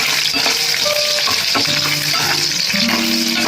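Upma ingredients frying in a pan give a loud, continuous hiss and crackle, with occasional stirring knocks throughout and no talking.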